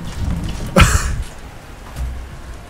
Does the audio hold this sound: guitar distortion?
no